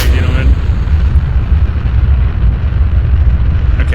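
A rocket engine roars at full throttle in the Kerbal Space Program video game, a loud, continuous low rumble that holds steady for a few seconds.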